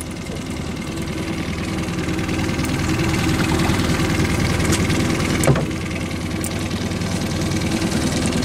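A boat motor runs steadily while fishing for resident coho and crab in Puget Sound, a loud, close, continuous chugging engine drone with a brief knock midway.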